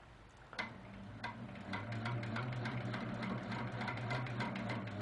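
A sewing machine stitching a quilt block runs steadily, a rapid mechanical ticking rhythm with a low motor hum, close and continuous with no talk.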